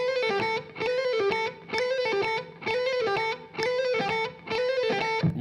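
Distorted electric guitar playing a seven-note burst at 130 bpm, six repeated quick phrases separated by short silences, close, loud and cleanly articulated.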